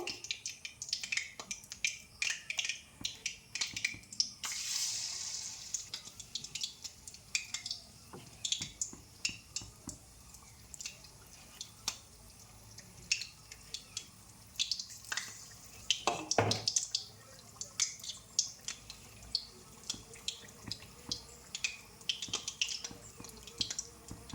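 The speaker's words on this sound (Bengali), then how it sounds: "আমি এই ব্যাটারে ডুবিয়ে ডুবিয়ে পুরগুলি আমি ভেজে নেব।" Batter-dipped teasel gourd stuffing fries in hot oil, giving a steady scatter of small crackles and sharp pops over a faint background hiss, with a brief wetter burst partway through.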